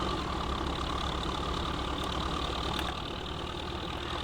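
A tractor engine in Farming Simulator 15 runs at a steady idle, an even low drone with a faint knocking texture that stays constant throughout, with no talking.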